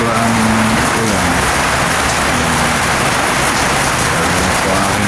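Heavy rain pours down on a garden of plants, including strawberries, a loud dense steady hiss of drops striking leaves and surfaces close to the microphone with no pauses.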